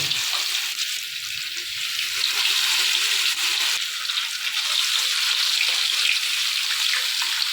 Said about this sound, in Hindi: हमारा तेल हो रहा है जी गरम। मछली को करेंगे जी डिप, इसको फ्राई।